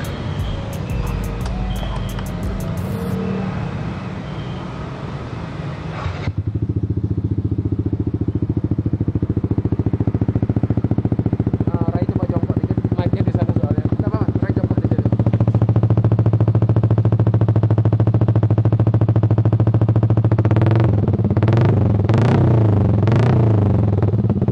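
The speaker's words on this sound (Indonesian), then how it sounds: "Coba boleh dinyalain motor aja, Bara, ya." A Yamaha NMAX scooter from 2019 fitted with a Kawahara exhaust starts up and idles with a loud steady low drone, then is revved in short bursts near the end, following a noisy opening.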